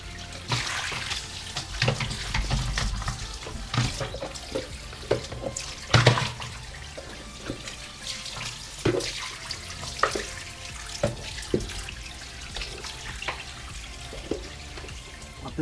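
Tap water runs and splashes while a Karcher FC5 hard floor cleaner's dirty water container is rinsed, with steady flow broken by irregular knocks and sloshes of the plastic tank close by.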